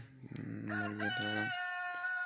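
A local rooster crows once at a rural market, a clear drawn-out cock-a-doodle-doo that rises and then fades, heard alone and fairly close.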